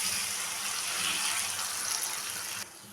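Water gushes steadily into a pot of Bengali fish curry with drumstick stalks and potatoes, a short, close, hissing pour that cuts off abruptly near the end.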